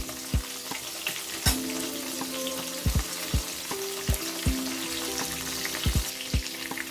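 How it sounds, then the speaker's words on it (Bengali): Prawns fry in a small amount of oil in a pan, a steady close sizzle broken by regular clinks and scrapes of stirring, with no voices. "দেখুন চিংড়ি মাছটা একটু লাল লাল করে ভাজা হয়ে এসেছে।"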